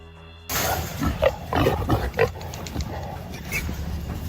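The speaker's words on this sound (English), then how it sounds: "Distress calls from pigs can be heard from over half a mile away" Wild boars caught in a farm trap squeal and grunt in distress, several overlapping harsh cries rising and falling over a few seconds against a noisy outdoor background.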